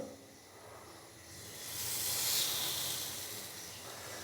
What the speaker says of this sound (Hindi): ऑयल हल्का सा गर्म हो चुका है तो अभी मैं इसके अंदर जो ब्रेड का पीस है वो फ्राई होने के लिए डालूंगा।